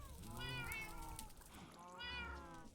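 A pet cat in the modded Minecraft game meows twice, loud and close, with the in-game meows standing out over a steady background and some talk around them.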